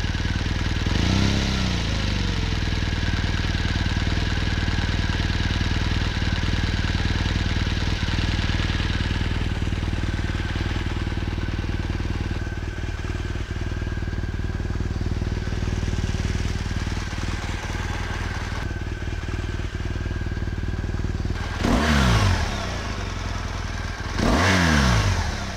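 A BMW R1200 GSA adventure motorcycle engine runs steadily at idle, loud and close, for most of the stretch, then is blipped into two short, sharp revs near the end with a falling whine after each.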